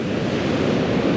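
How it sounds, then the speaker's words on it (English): Ocean waves roll in and crash on the shore at Brother's Point on the Isle of Skye, a dense, loud, steady wash of surf with wind buffeting the microphone. "just watch for hours these waves just coming in and crashing"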